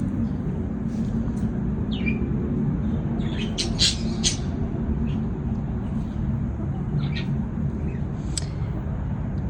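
A baby budgie parakeet out of its cage lets out a few sharp, high squawks and chirps in short bursts over a steady, loud background rumble, with no clear talk.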